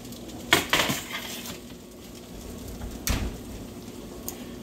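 An oven tray of kebabs pulled from the oven, heard as a few metallic clanks and scrapes of the tray, faint against a quiet room hum.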